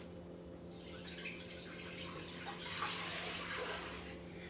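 Water mixed with chicken stock pours steadily into a pot for several seconds, a soft rushing splash that swells slightly midway, heard close over a low background hum.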